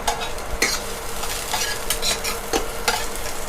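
Bamboo shoots stir-fried with garlic and shallots for a spicy pork belly dish crackle in a steady, close sizzle, with a spatula scraping the pan in several sharp strokes; no one talks.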